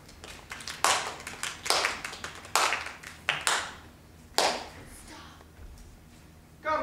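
Scattered bursts of applause from a theatre audience during a staged show, several short uneven rounds of clapping that rise and fade, with sharp individual claps between them.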